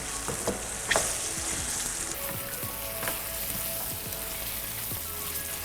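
Chicken pieces fry in a pan, turning white on both sides, with a steady close sizzle broken by a few sharp crackles and stirring scrapes.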